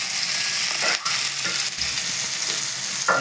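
Tomato, bay leaf and onion fry in hot oil for ghugni, a loud continuous sizzle with stirring scrapes and a couple of brief knocks from the utensil, heard up close with no voices.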